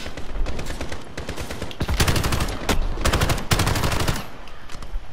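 AK rifle fire from the Call of Duty: Modern Warfare campaign, loud sustained automatic bursts with short gaps between volleys, dense and close throughout.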